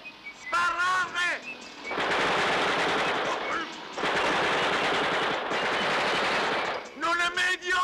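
Sustained machine-gun and rifle fire from a battle scene in a 1967 Italian war comedy film: loud, dense rattling bursts that run for several seconds with brief gaps, with shouted voices just before and after.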